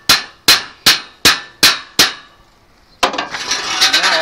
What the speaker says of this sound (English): And we finish pounding this over.